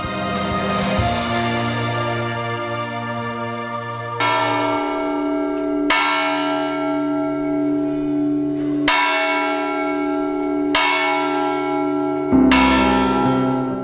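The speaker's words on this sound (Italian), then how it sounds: "Le campane sono un simbolo di Agnone, protagoniste dei tanti campanili che scandiscono il profilo dell'abitato." Large church bells in the hilltop town of Agnone in Molise ring out loud and close, a series of heavy resonant strikes every few seconds, each swelling and fading in a long metallic hum, with no voices.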